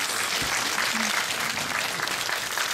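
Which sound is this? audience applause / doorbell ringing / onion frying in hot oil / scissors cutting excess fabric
audience applause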